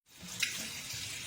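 Tap water running steadily into a sink while a one-year-old toddler washes dishes, a continuous close splashing rush starting abruptly and staying even.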